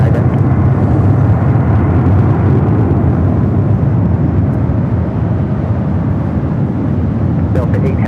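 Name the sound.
jet airliner at LAX taking off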